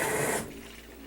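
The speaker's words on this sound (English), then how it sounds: "this is going through and shooting the pre-wash water in the soap into the washer" LG WM2501HVA steam washer spraying pre-wash water and soap into the drum, a close rushing spray that cuts off abruptly after a moment, leaving a low quiet machine hum.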